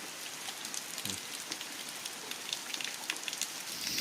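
Rain pattering steadily on leaves and surfaces in a forest at night, a soft continuous hiss with scattered nearby drips, fairly quiet and with no talking.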